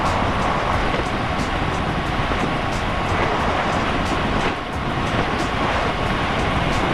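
Heavy road trains, three in a row, rumble past on an outback highway, a steady broadband roar of engines and tyres that stays loud and continuous throughout with a brief dip midway.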